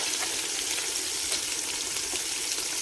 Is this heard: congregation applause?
no